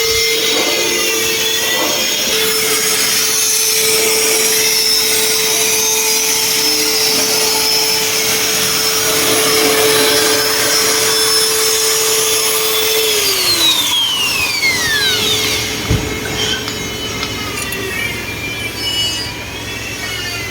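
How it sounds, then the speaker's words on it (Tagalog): A pencil grinder works a metal gate's crevices during a gate installation in Batangas, a steady high whine that holds for most of the clip, then drops in pitch as the tool slows, with scraping metal contact near the end. "At ginamitan na rin pala ni Saiko ng pencil grinder yung mga singit-singit na hindi na kayang dukutin ng grinder."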